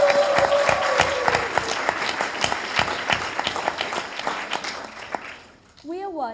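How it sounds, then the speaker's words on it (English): An audience at a science-talk final breaks into dense, sustained applause with many overlapping claps, fading out near the end before a voice begins speaking. "Give her a huge round of applause."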